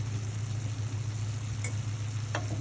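Steady sizzling in a frying pan as blended paste and a spoon of coriander powder go into a bottle gourd garlic curry, a continuous close hiss with a couple of faint clinks.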